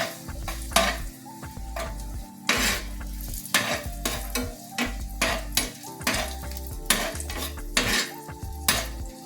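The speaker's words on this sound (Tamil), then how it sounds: "இப்போ திராட்சை சேர்த்துக்கலாம்." Raisins are added to fried cashews for green dal sweet payasam and stirred in a pan, with soft sizzling under repeated scraping and clinking taps of a spoon against the metal pan.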